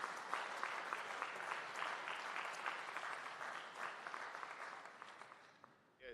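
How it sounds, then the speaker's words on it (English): Audience applause at a national AI lab signing ceremony in Jamaica, a dense steady wash of many hands clapping for several seconds, faint and somewhat distant, thinning slightly at the end. "Let's give a round of applause for the Amber Group"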